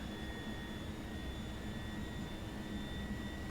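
A VTOL aircraft's jet engine in the VTOL VR game, practising carrier landings, gives off a steady loud roar with a high whine on top that holds constant throughout, with no talking.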